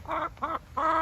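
Hens in a nesting box clucking close by, with three loud, harmonic bursts of throaty clucks separated by brief pauses; no voices.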